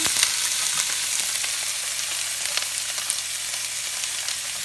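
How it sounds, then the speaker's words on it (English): Food frying in a pan of hot olive oil gives a steady, close sizzle with a constant hiss and small scattered pops, and nobody talks over it. "I've already got our pan heating up with some olive oil. I'll just dump those right in."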